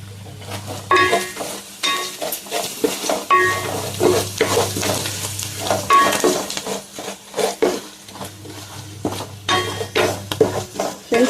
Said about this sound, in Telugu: ఫ్రెండ్స్ వేగిందండి మసాలాలు.